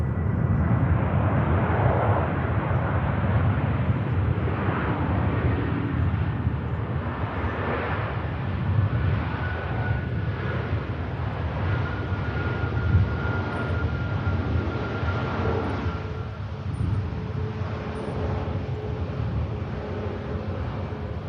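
A Ryanair airliner on the runway at Manchester Airport, a continuous broad engine roar with a faint whining tone, steady and moderately loud throughout, no voices.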